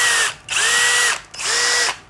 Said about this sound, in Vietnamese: khoan quét các kiểu rất là mạnh luôn nha